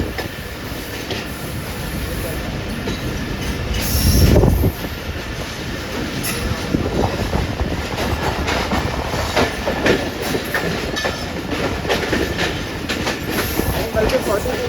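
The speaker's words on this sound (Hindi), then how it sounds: "ये 42 डाउन है कराकरम एक्सप्रेस AG30 6008 के साथ" The 42 Down Karakoram Express, hauled by AG30 locomotive 6008, rolls past on Pakistan's main line with rhythmic clickety-clack of wheels on rail joints, occasional squeals and a louder surge, a continuous nearby rumble throughout with faint voices.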